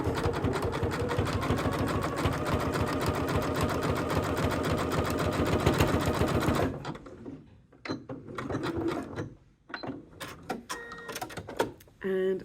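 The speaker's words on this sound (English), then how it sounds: "we're going to zigzag so that we catch each side with each zigzag." Sewing machine zigzag stitching quilt hexie pieces, a fast rhythmic mechanical chatter for about seven seconds, then stopping as a voice talks over light handling sounds.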